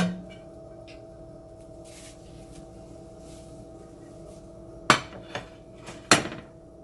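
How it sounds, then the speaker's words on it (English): A chopping board is shifted across a home kitchen counter while Suya beef skewers are prepared, producing a few sharp wooden knocks and clatters close by after a quiet stretch. "I'm just gonna move my chopping board."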